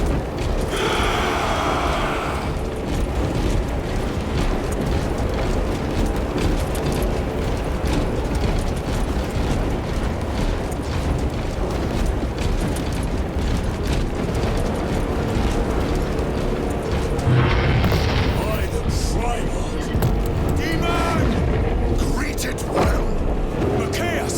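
Warhammer 40K Space Marine 2 battle with gunfire and artillery: a dense, continuous roar of shooting, blasts and mechanical clatter that stays loud from start to finish, with a heavier burst late on.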